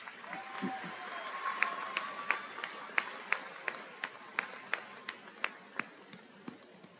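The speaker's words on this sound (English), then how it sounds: "Please join me in applauding their contributions to our college." Clapping during a Columbia Basin College ceremony: evenly spaced, sharp single claps keep a steady beat and stand out clearly above a soft room background.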